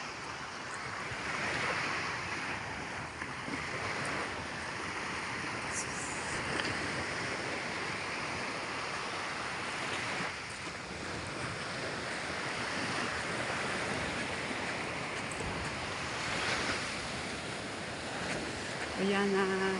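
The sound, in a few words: sea waves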